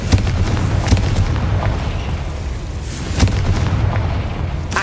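Repeated Confringo fire-spell blasts in Hogwarts Legacy gameplay, with several sharp booming bursts rising over a steady rumbling game backdrop and no talk.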